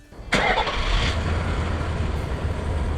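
A big diesel truck engine with an MBRP 4-inch filter-back exhaust cranks and catches with a sharp burst, then settles into a loud, deep, rumbling idle.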